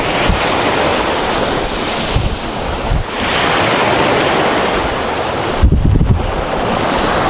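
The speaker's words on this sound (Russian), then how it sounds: "Давайте я еще раз вам напоследок покажу звук волн." Sea waves roll in on the Azov Sea shore near Golubitskaya, a steady loud surf wash with wind buffeting the microphone and a few stronger breaking surges, no voices.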